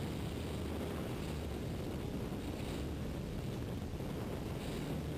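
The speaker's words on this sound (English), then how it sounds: "As the speed goes to near zero, the airplane falls out of the sky." A stunt propeller airplane at an air race show drones steadily from a distance as it slows to near zero speed and stalls, its engine noise broad and constant with no talking throughout.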